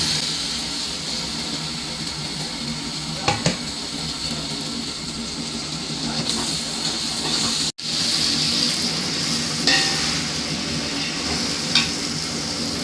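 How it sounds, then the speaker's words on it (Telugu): Tomato pieces fry with ginger garlic paste in a pan, giving a continuous close sizzle with a few brief clinks of stirring over roughly thirteen seconds. "నెక్స్ట్ టమాటా ముక్కలు వేసుకోవాలి."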